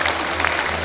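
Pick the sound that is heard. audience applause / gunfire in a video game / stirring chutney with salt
audience applause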